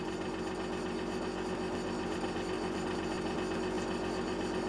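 A small SMD 2004 size 4 model steam engine runs on compressed air, its flywheel spinning with a slight wobble. It makes a steady, close, even mechanical whirr and clatter that continues unbroken throughout.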